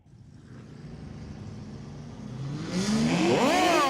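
A Chevrolet Corvette C7 and C8 launch side by side at a drag strip, the engine roar building from a low rumble into a loud, rising rev that peaks near the end, with no talk over it.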